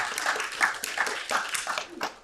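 A church congregation gives a round of applause for the board of directors, irregular clapping that rises and falls in moderate bursts with sharp individual claps standing out.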